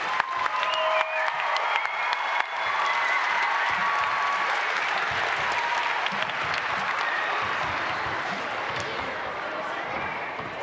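An audience cheers and applauds students at an elementary school music festival, sustained crowd clapping with scattered whoops rolling on steadily across the whole span in a large hall.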